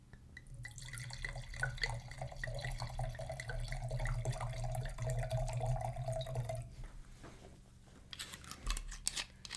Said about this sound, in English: Just listen as the wine pours.